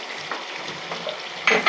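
Beef liver with garlic, potato and chui jhal chilli sautéing for a bhuna, a close, constant sizzle with a few stirring scrapes, the last one louder.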